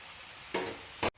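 Melted jaggery being stirred into a powdered sweet mixture for Halloween treats: two brief, close scraping strokes against a faint background, ending in an abrupt cut.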